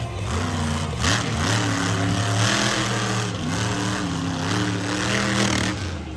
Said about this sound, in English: Sounds like he's having some motor issues out there.